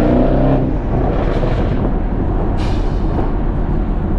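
Loud modified car with non-stock engine and exhaust, a harsh roaring rev in the first half-second falling into a rough, rumbling drone with a raspy burst midway, loud and close, with no voices.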